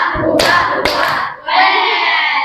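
A crowd of junior high students performs a rhythmic clapping chant, loud and close. Two sharp bursts of claps come amid shouted syllables, then a sustained group shout.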